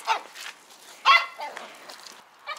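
A dog whines loudly in several high, piercing bursts, with short gaps and softer whimpers between them.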